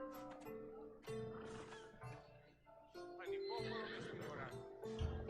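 Horse neighing in the video game Assassin's Creed Odyssey, a few whinnies mixed among game dialogue and music, with voices talking through most of the moment.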